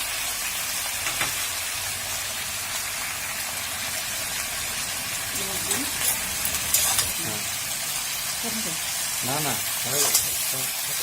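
Mixed vegetables with salt and turmeric sizzle and hiss steadily in a hot pan, with a few scraping stirs and clatters of a utensil breaking through the frying noise.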